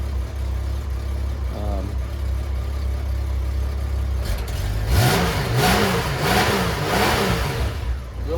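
A Honda Goldwing GL1500 Interstate motorcycle engine runs on quarter choke before it has warmed up. It idles steadily, then revs rise and fall in a rhythmic series of throttle blips, close and loud.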